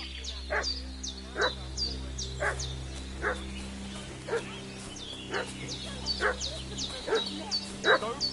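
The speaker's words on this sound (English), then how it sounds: "What's that dog making such a fuss about?" A dog in the video game Kingdom Come barks repeatedly at a steady, insistent pace, each sharp bark at moderate distance over a low constant hum, with no speech.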